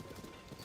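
A horse's hooves clip-clop in a quick, soft, steady rhythm while riding in Zelda: Tears of the Kingdom, heard close and fairly quiet.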